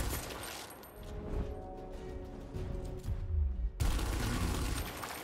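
Gunfire in the tactical shooter game Gears Tactics, a rapid burst of shots with booming low thuds toward the end, fairly loud against a game background.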